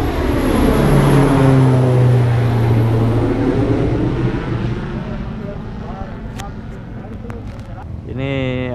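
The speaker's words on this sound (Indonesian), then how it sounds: "Ini ada pesawat yang akan segera mendarat. Dia berputar dulu. Nah, ini dia mendarat." A propeller airplane circles and comes in to land, its engine drone loud and sustained before fading, with sharp clicks and a brief rumble near the end.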